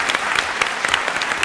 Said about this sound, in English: I was going to ask for another round of applause for Robert Rosencrantz